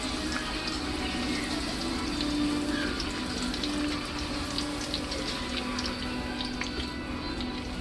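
A corn tortilla fries in hot vegetable oil, a steady close sizzle with fine crackles and spits running unbroken throughout.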